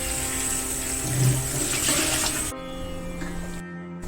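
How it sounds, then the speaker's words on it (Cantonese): Apples rinsed under a running kitchen tap, a steady close splash of water for about two and a half seconds, then the flow cuts off leaving a faint hum. "我沖嗰啲蘋果"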